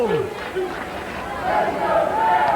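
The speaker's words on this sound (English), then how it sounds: "I'm hearing, let's go Jerry chants, go Red chants." Wrestling arena crowd chanting on a live WWE Raw broadcast, the chants split between two wrestlers, a broad rhythmic roar of many voices that swells toward the end while a commentator talks over it.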